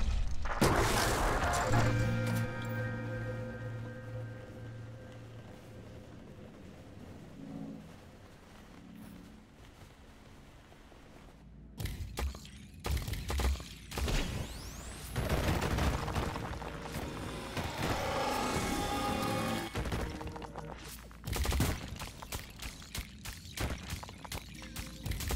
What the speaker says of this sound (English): I think the explosion is the best thing.